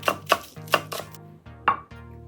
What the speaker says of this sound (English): Add a chopped green onion.